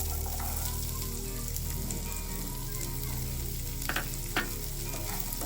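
Two medium onions frying in oil left over from frying chicken, for a Kerala-style chicken masala, a steady close sizzle under a low hum with a couple of brief spatula scrapes near the end.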